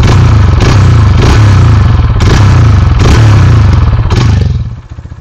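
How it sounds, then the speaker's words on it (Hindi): A 2023 Hero Xtreme 160R 4V motorcycle revs loudly and close up through its exhaust, with repeated throttle blips rising and falling over a steady engine drone before it drops back toward idle. "ये अपना एग्जॉस्ट रहेगा, साउंड वगैरह मैं सुना देता हूँ आपको एग्जॉस्ट का।"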